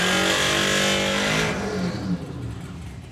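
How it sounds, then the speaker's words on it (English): A drag racing doorslammer car revs hard to reheat its tyres at a track, a loud close engine roar that holds high and then fades and drops away toward the end. "So they're going to push him back, get those tyres reheated."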